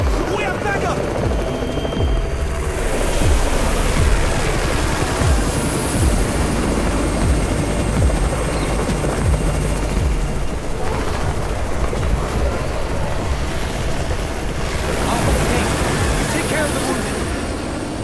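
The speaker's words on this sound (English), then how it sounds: "It's the Raven's chopper! We have backup!" In the video game Undawn, a helicopter arrives with a loud, continuous rotor thrum and roar that lasts throughout. Voices talk over it.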